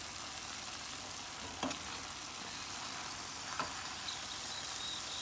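Guyana hassa fish curry being stirred in a pan, a steady sizzle broken by a couple of distinct scraping strokes.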